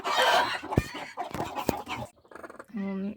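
Chickens clucking close by, short clucks mixed with soft vocal sounds and a brief higher call near the end.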